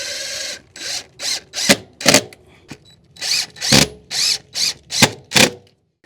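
A power drill drives four screws in a row into a home building project, each a loud, close burst of whirring motor with a short pause between, the bursts repeating steadily.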